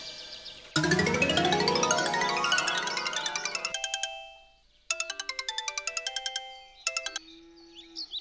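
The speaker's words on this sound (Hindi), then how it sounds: "थोड़ा कपिल फोन लगा लेता हूँ।" A mobile phone ringtone plays a bright, repeating electronic melody, loud and close, in a Chhattisgarhi short film scene. Notes sweep upward, then break into choppy tone patterns with short pauses, with no talking.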